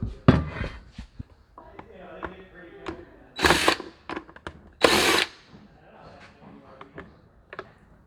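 A handheld power drill whirs in short bursts while backing screws out of the battery plate on a Burromax mini bike, loud and close, with a few longer runs, clicks and handling sounds between them.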